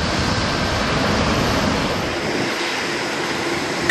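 A steady, loud roar of an airplane passing, heard from the fifth-floor observation deck at Narita Airport, a broad rushing rumble that holds throughout with no voices.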